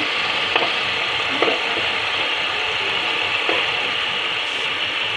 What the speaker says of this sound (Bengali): এইভাবে 2 থেকে 3 মিনিট আমরা ফ্রাই করে নেব।